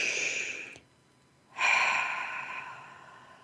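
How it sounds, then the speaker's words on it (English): Deep breath during a guided meditation: a long audible exhale, a brief pause, then a slow, drawn-in breath that fades gradually, close to the microphone with no speech. "Again, another deep breath."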